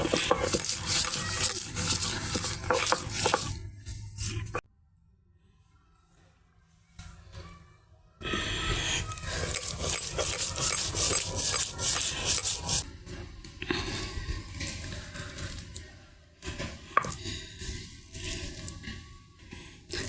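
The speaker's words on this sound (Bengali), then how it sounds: "প্রথমে ডাল আর সরিষার ফুলগুলো সুন্দর করে বাইটে নেব।" Lentils and mustard flowers ground by hand on a village grinding stone, a steady near rubbing and rasping scrape that stops for a few seconds midway, then resumes in uneven strokes.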